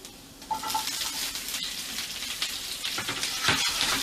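Brussels sprouts and garlic sauté in a pan with a steady, close crackling sizzle that swells slightly near the end, without any voices.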